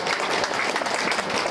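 Warm applause fills the room at a memorial ceremony marking the Korean War anniversary and General Paik Sun-yup's death, a dense continuous patter of many hands, close and even throughout, with no voices.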